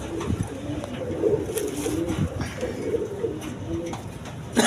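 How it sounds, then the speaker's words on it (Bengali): A pair of Kachchi pigeons coo at an exhibition, soft repeated throaty coos close by over a busy background. "এখানে এক পেয়ার কাচ্চি কবুতর আছে।"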